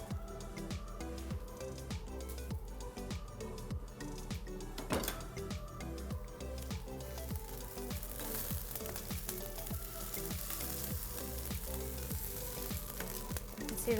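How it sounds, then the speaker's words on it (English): Food sizzling steadily on a grill, a continuous crackling hiss under rhythmic background music, fairly faint and constant throughout. "you can hear our grill sizzling in the background"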